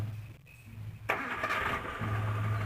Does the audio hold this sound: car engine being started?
yes